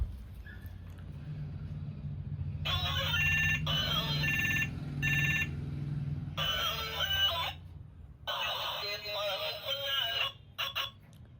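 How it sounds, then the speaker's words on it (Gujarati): A telephone ring pattern repeats in bursts over a low hum, several rings separated by short gaps. "ચલો તો સુમિતભાઈને કરી લેવી ફોન આપણે"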